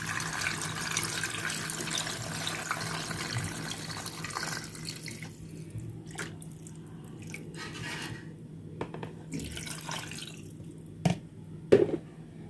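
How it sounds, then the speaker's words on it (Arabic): Brine pours steadily into a glass jar of pickled green limes with a soft watery rush, fading into quieter trickles and a few light clinks near the end. "هنحط بقى المحلول اللي احنا جهزناه عليه"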